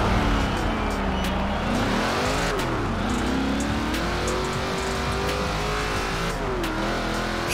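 A Ford Mustang in Forza Horizon 4 revs hard and close, its engine pitch climbing and dropping through gear changes in a loud continuous roar.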